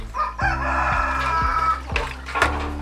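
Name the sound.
chicken crowing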